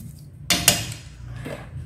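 A metal pot is handled in a home kitchen for boiling chrysanthemum flowers in about 500 ml of water, giving two sharp clanks close together, then a softer knock, against a quiet background.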